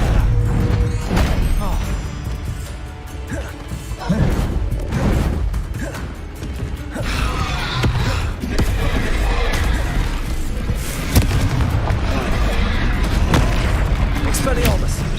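Dense, sustained blasting from the Confringo spell in Hogwarts Legacy, with booming explosive bursts and crashing debris layered over a continuous loud roar of battle that lasts throughout.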